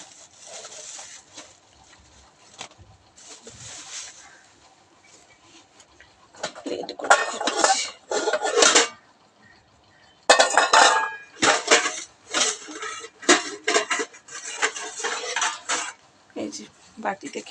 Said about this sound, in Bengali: আমাদের তো পেঁয়াজ কাঁচা লঙ্কা টমেটোটা কেটে নেব